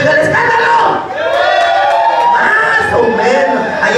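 A live crowd at a private clown show roars, cheers and shouts together in a loud, sustained wave of voices, swelling after a brief dip, with individual yells rising above the mass.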